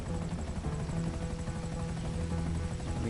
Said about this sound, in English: we don't even need to get out of the helicopter